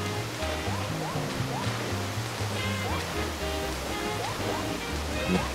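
Steady rushing waterfall roar from Super Mario 3D World fills the scene, with music notes and chirpy game effects layered over it and a voice talking intermittently.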